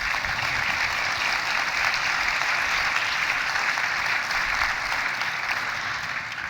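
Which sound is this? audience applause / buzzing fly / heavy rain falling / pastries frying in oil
audience applause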